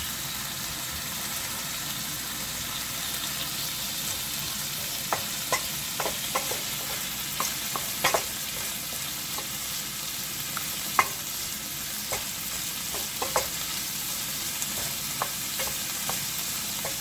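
Celery frying in a pan for Cypriot fasolada bean soup, a steady close sizzle with scattered clicks of stirring throughout.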